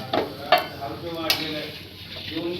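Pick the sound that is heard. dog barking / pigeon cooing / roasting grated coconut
roasting grated coconut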